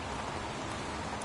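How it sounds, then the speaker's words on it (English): Steady, dense pouring rain in the Heavy Rain video game, a continuous broadband hiss with no talk, moderately loud throughout the short stretch. "Goddamn rain. Hasn't stopped pouring since I arrived."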